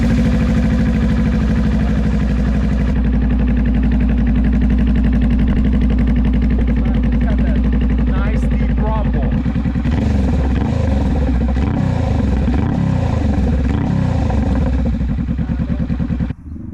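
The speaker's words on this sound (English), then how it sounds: "We've got Vance Hines Exhaust onto 2023 Honda Rebel 500 CMX, and let's start this baby" A 2023 Honda Rebel 500 CMX fitted with a Vance & Hines exhaust runs close by, a steady loud idle whose burble roughens and pulses after about nine seconds as the throttle is blipped, with no talking.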